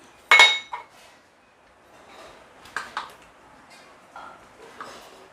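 A small bowl pressed through rolled mathri dough to cut rounds, giving a sharp clink at the start, then lighter taps and soft scraping of the bowl on the board.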